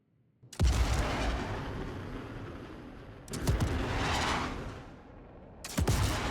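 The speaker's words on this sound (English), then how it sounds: "love watching them just get locked and loaded and fired out of those missile chambers" Gunship missiles launching from their chambers in Star Citizen: three sharp, loud launch bursts, each followed by a sustained roaring whoosh that trails off before the next one fires.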